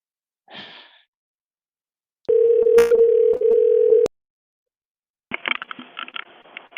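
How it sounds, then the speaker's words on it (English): A telephone dial tone holds steady for about two seconds, cut briefly by a click, after a short sigh-like breath. Rustling handling noise follows once the tone stops. "You having dialing troubles?"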